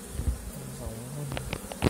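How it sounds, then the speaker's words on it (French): Honey bees buzz steadily inside a hive frame being inspected in June, a dense close hum with brief knocks and handling sounds, and a voice is heard faintly in the background. "Il y a toutes les abeilles dedans."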